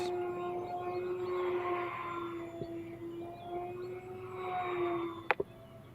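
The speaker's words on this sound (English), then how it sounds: "That was a really roaring sound from the engine." A distant E-Flite Maule model plane engine drones with a steady tone that rises and falls as it passes, with a couple of sharp clicks near the end.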